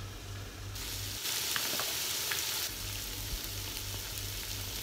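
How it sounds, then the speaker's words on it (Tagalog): Shrimp for ginataang kalabasa sauté in a pan, a soft continuous sizzle and hiss with brief stirring scrapes, close but fairly quiet, no talking. "Gisahin mo lang ang shrimp. Gisahin mo siya ng 5 to 7 minutes."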